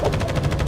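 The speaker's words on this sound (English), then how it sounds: "Gunfire." Rapid automatic gunfire in the video game The First Descendant rattles steadily and loudly throughout, a fast repeating burst with no pauses.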